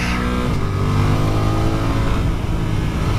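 A KTM or Yamaha motorcycle engine revs on a road ride, a loud, steady, close drone held throughout.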